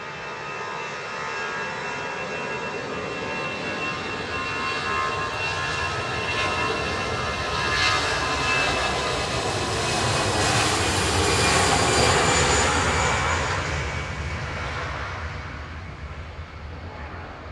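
Aircraft engines at Manchester Airport roar steadily at a distance, swelling slightly as a plane passes and fading toward the end, with no talk over it.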